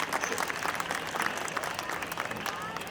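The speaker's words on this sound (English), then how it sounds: "I would like to have a special round of applause for them" A round of applause from an audience for student performers at an outdoor event, a dense, even patter of many hands clapping at moderate distance, fairly soft and continuous throughout.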